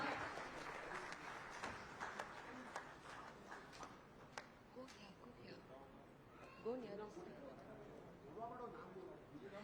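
Faint scattered clapping from an audience at a sports journalists' awards ceremony in Ahmedabad, sounding distant and thin, with a voice speaking over it in the later part.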